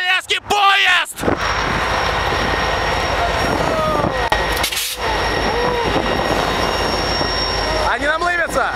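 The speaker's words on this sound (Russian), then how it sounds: "И сейчас вы увидите, как движется по леске поезд!" A train rumbles along close by with steady rolling noise and a bright tonal whine, while people's voices break in at the start and end.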